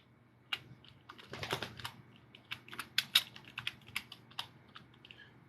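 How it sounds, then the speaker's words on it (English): Typing on a computer keyboard with one hand, a run of irregular close key clicks with a brief louder cluster early on, no talking. "I'm typing with one hand here."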